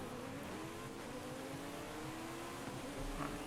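A stock Lamborghini racing in Forza Horizon 5 hums with a steady engine drone whose pitch slowly climbs through the gears, faint and continuous, with no talking.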